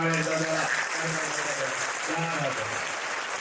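Audience clapping in a dense, continuous patter at a lecture hall gathering, with voices chanting or singing over the applause throughout.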